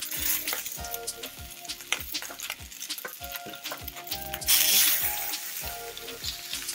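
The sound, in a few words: oxtail meat searing in hot oiled pan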